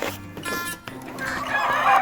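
Backyard hens kept by a small-scale owner cluck and murmur close by in a short, busy flurry of overlapping calls, rising louder toward the end.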